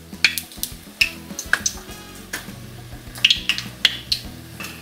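Batter-coated quail eggs for kwek kwek deep-fry in a pan of hot oil, a continuous close sizzle and bubbling punctuated by frequent light clicks and taps of utensils, with no talking.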